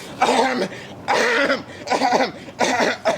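A run of four harsh, raspy coughs in quick succession, loud and close to the listener, with short gaps between each.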